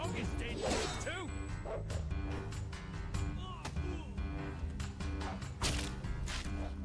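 Dog barking in the video game Fable 3, yips and barks mixed with combat thuds and game music, with voices talking over much of it.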